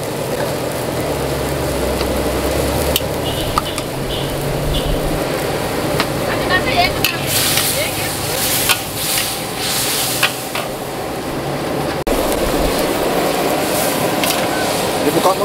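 Mie goreng noodles are stir-fried at a street stall, with scraping stir strokes and a low sizzle under a constant background hum while people talk nearby.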